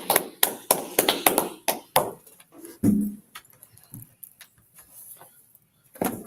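People in a law class clap together in a burst of brisk applause that quickly thins to scattered taps and soft room noise, then one last clap sounds near the end.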